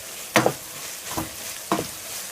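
Chopped andouille sausage goes into a hot pan, giving three separate bursts of sizzling and scraping as it is stirred, each one fading back into a quiet background crackle.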